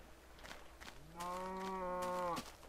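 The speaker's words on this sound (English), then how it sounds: "So many cows." Cows mooing in the Minecraft video game: one long, clear tonal moo with a steady pitch, fairly close, heard alone over a quiet background.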